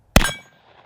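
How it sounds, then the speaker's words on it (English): A single sharp metallic clang rings out as a bullet fired from a Magnum Research Desert Eagle pistol strikes a steel gong outdoors, loud and bright, with a ringing tail that fades within about a quarter second. "I think we're gonna see what this thing does when we shoot the gong here."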